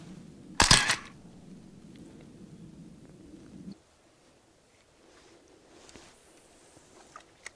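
A camera shutter snaps once, loud and close, while fishing outdoors, followed by a low steady rumble that cuts off, then quiet outdoor ambience with faint scattered clicks.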